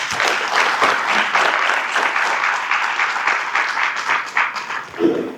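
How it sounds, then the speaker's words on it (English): A roomful of people applauds at the Ironton High School Athletic Hall of Fame induction dinner, a thick, steady wash of clapping that thins out and fades near the end. "How about a round of applause?"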